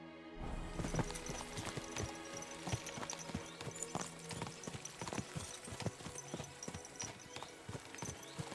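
Horse hooves clip-clop in a steady, rhythmic gait in Kingdom Come Deliverance 2, close and continuous under a faint ambient bed, with no talk.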